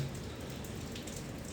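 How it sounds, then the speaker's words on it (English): Rain falls at night as a steady broadband hiss with soft scattered drops, fairly faint and constant, with no voices. "in case you hear it, it's just the rain at night"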